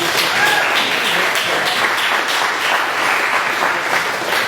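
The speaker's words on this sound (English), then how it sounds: "Everybody give him a round of applause." Audience applause for a young man brought up on stage at a motivational speech event, a steady, dense wash of clapping from a crowd that holds throughout at even loudness.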